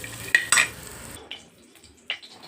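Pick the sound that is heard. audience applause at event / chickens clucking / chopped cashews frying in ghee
chopped cashews frying in ghee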